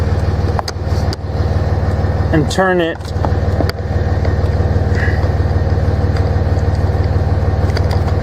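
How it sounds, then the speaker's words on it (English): A Dodge Ram pickup engine idles in a steady, low, continuous rumble throughout, with someone speaking over it. "Before disconnecting the battery, start the truck up,"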